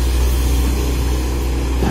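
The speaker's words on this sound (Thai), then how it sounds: "เครื่องยนต์น่าจะเป็นมิตซูนะครับ 4M40 ครับ4สูบ" Low, steady engine drone from a SANY SY215C excavator with a Mitsubishi 4M40 four-cylinder diesel, working through water; a continuous heavy rumble held at one level, with no talk.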